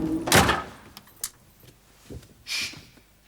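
A door closes in a French home setting: a loud clattering thud with rattling, then a couple of small knocks and a final brief scraping shuffle, with no talk.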